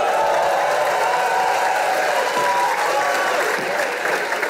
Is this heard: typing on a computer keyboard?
no